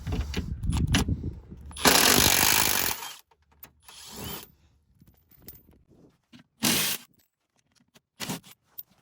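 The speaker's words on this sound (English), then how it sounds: "So we're gonna go to drill mode, which is maximum power." A cordless drill on maximum-power drill mode whirs in several short, loud bursts separated by pauses while working on a Jeep Grand Cherokee Trailhawk, with quieter handling clatter in between.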